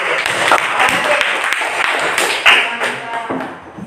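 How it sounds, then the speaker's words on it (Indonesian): A class of students claps briefly in scattered, uneven bursts close by, mixed with taps and thumps, while people talk over it. "Oke, tepuk tangan dulu."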